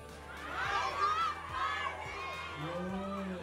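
Fans at a film premiere night shouting and cheering together, a loud crowd roar of high voices swelling and fading over a few seconds, with a voice speaking over it near the end.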